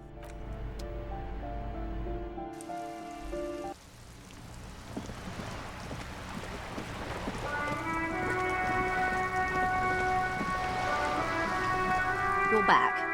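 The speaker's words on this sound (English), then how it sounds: "All around you, rain keeps falling down on the wooden boards she's standing on" Rain falls steadily onto wooden boards in the video game Disco Elysium, a soft continuous patter under tonal game music, growing denser and louder toward the end.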